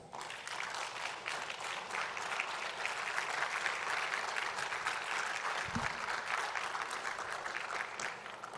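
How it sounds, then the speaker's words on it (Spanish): Steady audience applause at a conference session, a dense wash of clapping that stays even in level for several seconds, with a faint low thump partway through. "recibámoslos con un aplauso"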